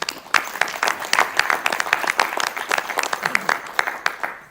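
Applause from attendees at a school board meeting, a moderately quiet spatter of individual claps rising and falling unevenly, with a voice faintly talking underneath.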